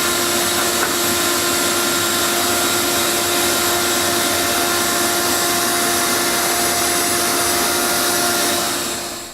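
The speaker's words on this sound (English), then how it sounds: "you just saw the process to vacuum out the joints" A vacuum cleaner drones loudly and steadily while clearing out the cut grout joints of a kitchen floor during regrouting, a continuous whine with a tonal hum that fades at the end.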